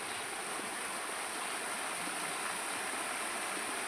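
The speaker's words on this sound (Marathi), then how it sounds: "वड्याला पावसा पाणी चांगलं चालू झालं आहे" Rain-fed stream water flowing steadily beside a farm well, a constant broadband rushing that stays even and fairly loud throughout with no voices.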